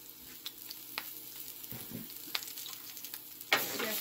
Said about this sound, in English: Just fry the garlic.